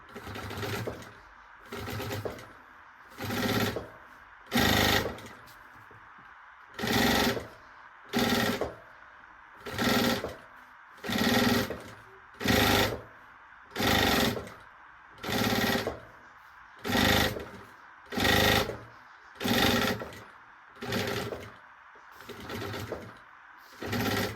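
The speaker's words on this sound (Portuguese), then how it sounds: "vamos seguir aqui costurando" A sewing machine stitches fabric for a maternity bag in about sixteen short, loud, close runs, each lasting roughly a second, separated by brief pauses with a low background hum.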